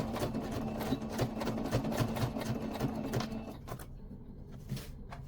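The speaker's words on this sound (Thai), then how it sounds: "เราจะมาเย็บหูกางเกงกันนะจากตรงนี้นะเราจะเย็บลงมา" A sewing machine stitches a trouser belt loop, running in a steady, close, continuous whir with rapid needle rhythm for about three and a half seconds before stopping, followed by quieter handling sounds.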